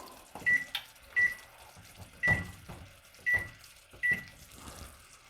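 A kitchen timer gives five short, high electronic beeps spaced roughly a second apart, close and moderately loud, with faint kitchen clatter between them and no speech.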